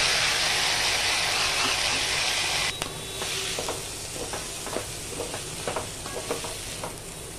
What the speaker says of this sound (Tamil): வெங்காயம் கலரில் மாறினதும் நம்ம கட் பண்ணி வச்சுக்கிட்ட தக்காளி சேர்த்துக்கலாம்.